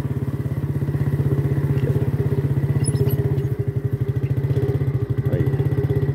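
A motorcycle engine putters steadily at close range on a dirt road, its rapid pulsing beat broken by occasional bumps and rattles as it rolls over uneven ground.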